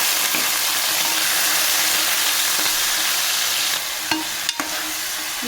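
Onions with green chillies and curry leaves fry in hot oil in a pan, a steady close sizzle with a few clinks of a spoon near the end.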